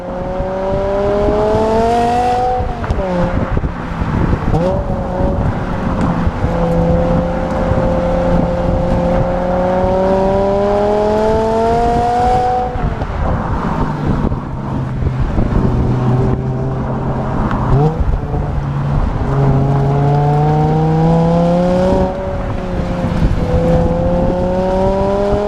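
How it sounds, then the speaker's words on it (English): A BMW E60 M5 engine revs loud and close, its tone rising through repeated pulls with brief dips between shifts and climbing again, no talking. "this car, the E60, is the pinnacle of gorgeous, magnificent sound out of the BMW M division"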